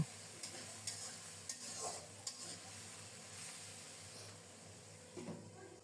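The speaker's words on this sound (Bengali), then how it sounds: "এবার নেড়ে চেড়ে খুব সুন্দর মতো মশলাটাকে কষিয়ে নেব" Spices with half a teaspoon of turmeric frying in a pan with tomatoes while being stirred: a soft, low sizzle under scattered light spoon scrapes and taps, faint and close.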